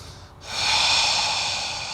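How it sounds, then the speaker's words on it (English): A deep, steady inhalation through the nose during a hatha yoga breathing exercise, rising after a brief pause and held smoothly, close and clear with no talking. "Inhale."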